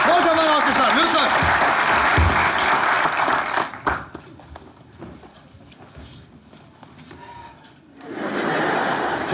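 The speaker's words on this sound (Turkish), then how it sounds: "Kocaman alkışlar, lütfen." Studio audience applause and some laughter greeting a guest on stage in a Turkish comedy show, loud for about four seconds, fading to quieter room sound, then swelling again near the end.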